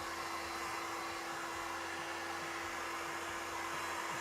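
Hot air dryer blowing steadily to speed the drying of hot glue on a lizard-feet craft project, a continuous close, even whoosh with a faint motor hum throughout, no talking.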